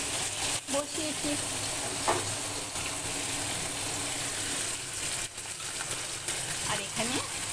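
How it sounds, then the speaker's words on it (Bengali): Fish sizzling in hot oil in a home kitchen while a curry of prawns, ridge gourd, pointed gourd, potato and tomato cooks nearby, a continuous crackling fry with occasional stirring clinks and someone talking over it. "আর এখানে মাছ ভাজছি, এখানে মাছ ভেজে রেখেছি।"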